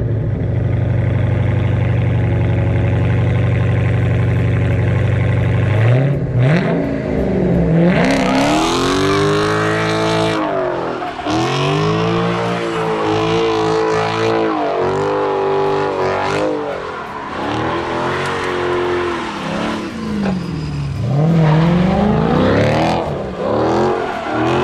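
A 1971 Plymouth Cuda muscle car engine idles with a deep rumble, then revs hard again and again, loud and close, with tires squealing between the surges.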